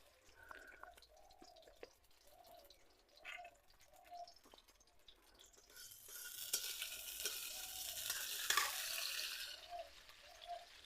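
Chopped onion and garlic frying in hot mustard oil, soft sizzling with light scraping at first, then swelling into a loud, bright sputter that fills the second half before easing.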